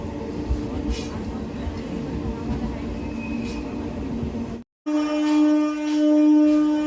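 A train rumbles along its rails with a loud, continuous roar, cuts out for a moment, then returns with a steady droning hum.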